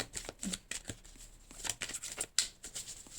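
Tarot cards being cut and shuffled up close, a quiet series of crisp riffling snaps and soft slaps in uneven bursts.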